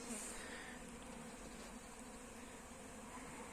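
Honeybees fly around hives in winter while robbing a colony, a steady soft buzzing hum with no clear breaks, faint and distant, heard alone.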